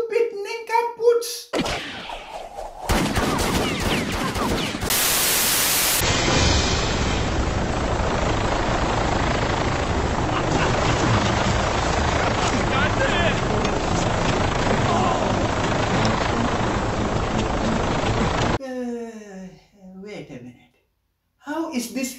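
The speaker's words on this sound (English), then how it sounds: "Helicopter pilot controlling this helicopter this perfectly at this position." A helicopter's rotor drones loudly and steadily for a long stretch, with brief voices before and after the engine noise.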